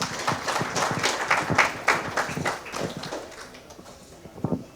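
Audience at a comedy show clapping, a near, moderately loud patter of applause that gradually thins and fades toward the end.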